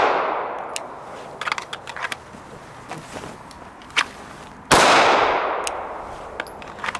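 A single sharp pistol shot rings out at a concealed carry drill, loud and abrupt with a brief ringing tail, preceded by light rustling and shuffling.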